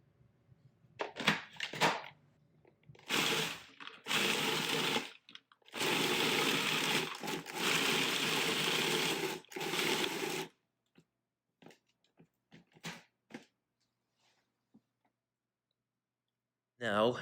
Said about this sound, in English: after we pulsed our breadcrumbs to the proper coarseness that we're looking for